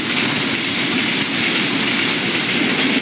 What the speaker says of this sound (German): Der Zug fährt gerade hier durch.